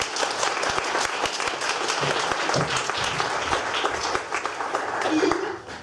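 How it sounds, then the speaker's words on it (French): An audience at a comedy show applauds a comedian, giving steady, dense clapping with a few sharper claps standing out, while a voice carries on over it. "On va l'applaudir."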